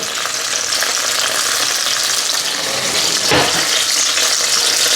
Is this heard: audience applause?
no